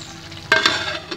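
Small anchovies (netholi) frying in a pan are stirred, giving a steady sizzle broken by two sharp scraping spoon strokes near the middle and a lighter one at the end, close and fairly loud, with no voices.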